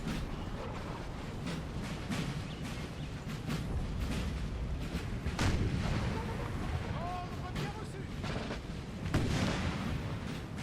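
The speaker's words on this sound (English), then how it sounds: "Our artillery is firing." Artillery batteries fire in a Napoleonic Total War battle, scattered sharp booms and cracks rising over a constant rumbling din of distant battlefield noise, several shots spread unevenly across the span.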